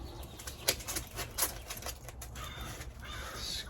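A crow calls out in loud caws nearby while its wings flap audibly, and the flapping trails off into a softer whoosh.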